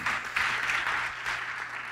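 A church congregation applauds, a thick wash of steady clapping from many hands that carries on the whole time without pausing, close and fairly loud.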